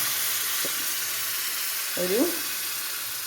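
Lemon pickle bubbles and sizzles in a pan, a steady hissing simmer throughout, with a brief clink and a short voice sound partway through.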